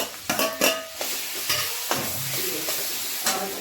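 Chopped tomatoes dropped into a kadhai with chili masala, sizzling and hissing, with a spoon scraping and stirring against the metal in a few distinct clanks.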